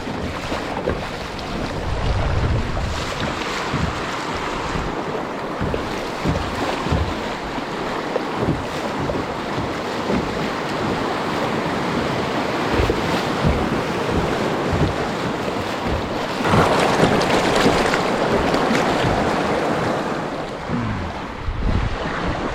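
Rushing water of river rapids on the Mulberry River churns and surges continuously through a big wave train, with heavy splashing and wind buffeting the microphone, swelling louder toward the end.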